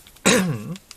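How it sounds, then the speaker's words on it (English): A single short cough, close and clear, with a throat-clearing rasp, then quiet. "cough"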